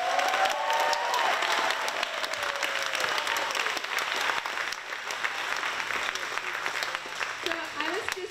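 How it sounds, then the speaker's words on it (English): A theater audience gives a big round of applause for young performers, steady, full clapping that slowly tapers, with a voice talking over it. "Let's give these kids one more big round of applause."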